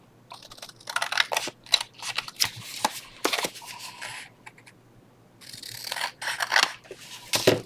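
Scissors snip through a handmade paper tag cut from a scrap envelope, a run of close, crisp cuts in short bursts with brief pauses between them.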